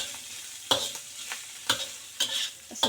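Green beans with dried bean curd, dried shrimp and preserved mustard stirred in a pan, with a gentle sizzle under four distinct scraping clanks of the spatula at a slow, regular pace.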